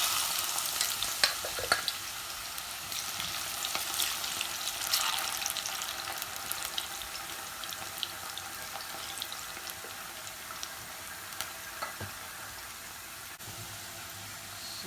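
Plantain slices fry in hot oil for gizdodo, a steady, close crackling sizzle that runs without pause, with a few sharper pops and faint clinks of utensils scattered throughout and no voices.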